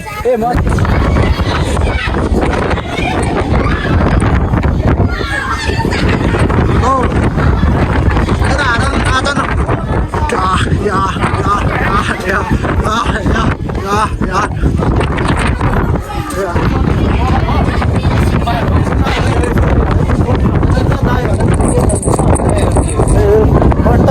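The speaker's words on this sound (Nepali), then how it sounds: "हावा चलेको" Strong wind buffets the microphone outdoors with continuous loud rumbling gusts, and several people talk over it throughout.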